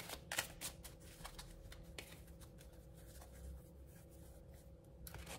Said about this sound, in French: pendant que je bats les cartes et que je les distribue